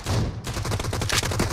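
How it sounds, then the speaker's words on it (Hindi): Gunfire in the battle game BGMI from a slow-firing gun, a steady run of loud shots with brief gaps between them, heard alone without talk. "ये स्लो वाली बंदूक है, मतलब थोड़ी सी ना स्लो गोली चलाती है"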